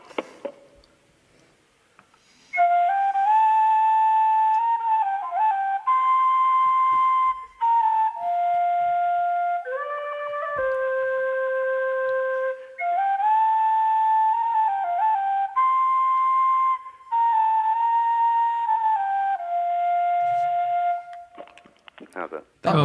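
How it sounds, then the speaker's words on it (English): A tin whistle plays the lively, bright jig The Fisherman's Reel close up, with quick ornamented notes and short breaths between phrases, after a brief quiet start. "do give us a little blast on your whistle there, Phil"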